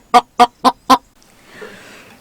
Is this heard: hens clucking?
yes